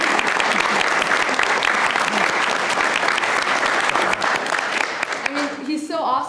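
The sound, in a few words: applause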